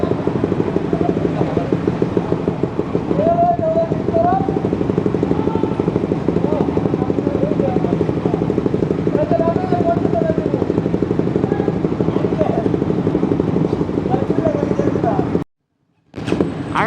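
A group of motorcycles rides near the Jamuna bridge, producing a continuous loud engine and wind roar with a voice talking briefly over it, cutting out near the end.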